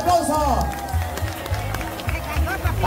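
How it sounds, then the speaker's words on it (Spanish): Outdoor crowd clapping at a greased-pole climbing contest, rapid scattered hand claps under lively chatter and shouting, close and fairly loud. "fuerte el aplauso"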